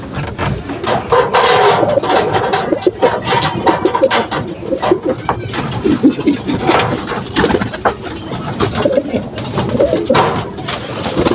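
Many pet pigeons at a home coop coo continuously and close, overlapping low rolling calls mixed with wing flutters and scratchy movement throughout.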